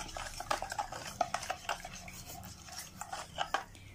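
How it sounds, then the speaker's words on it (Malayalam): A spoon stirs an egg and milk mixture for egg pudding in a bowl, with light, rapid clinks and scrapes against the sides in an uneven rhythm, close but quiet, no voices. "നല്ലോണം ഒന്ന് ഇളക്കി കൊടുക്കാം"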